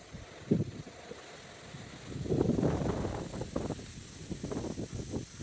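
Wind gusting around a homemade nine-bladed wind generator with a tail, outdoors; soft, breathy rushing swells in uneven gusts, louder in the middle stretch, with no talking.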